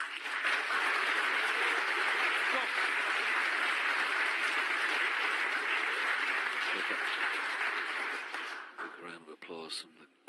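Sustained applause from a snooker crowd at the 2018 World Championship acknowledges a player's first pot in over an hour, steady and full for about eight seconds before tapering off.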